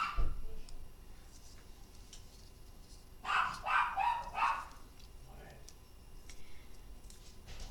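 A small dog barks a quick run of four or five yips at moderate distance, set against a quiet room hum.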